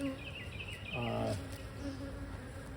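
Honeybees buzzing around an open hive close by, a steady droning hum with a few louder passes near the listener, outdoors.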